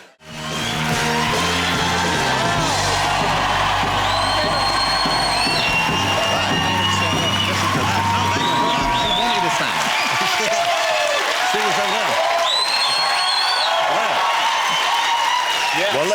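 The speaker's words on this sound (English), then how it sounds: "What a warm reception you" A studio audience at a television chat show cheers and applauds, with loud, sustained clapping and whoops that fill the room, while a voice speaks underneath at the start.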